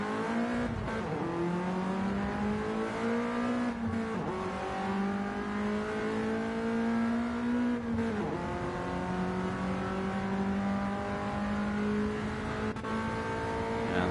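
Race car engines in Gran Turismo 7 roar loud and steady as one car stays in another's slipstream, with pitch climbing through each gear and dropping sharply at every shift, the engines overlapping continuously.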